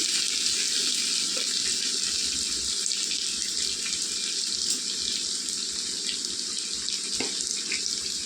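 Vegetables and chili powder frying in a pan for veg fried rice, a steady hiss and sizzle running throughout with faint clinks, no talk.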